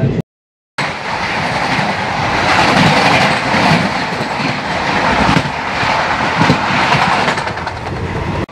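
The Paharia Express passenger train runs on rails between Kolkata and New Jalpaiguri with a loud, steady rumble and rhythmic clickety-clack of the wheels, heard after a brief silent gap at the start.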